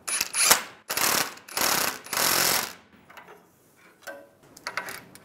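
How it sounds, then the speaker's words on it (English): A ratchet snugs up a tie rod nut on a 2007-2013 Chevy Silverado 1500 front suspension, giving several bursts of close, loud rapid clicking followed by a few quieter ticks. "snug this up."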